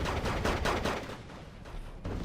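Strafing gunfire in the Wargame Red Dragon strategy game, a quick dense volley of rapid shots, loud and continuous over about two seconds.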